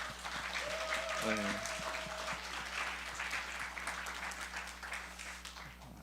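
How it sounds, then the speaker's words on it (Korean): A church high school youth congregation at a New Year's Day 2023 worship service applauds to welcome new first-year students, with steady crowd clapping throughout and a voice briefly speaking over it. "우리 박수로 환영하고 축복할까요?"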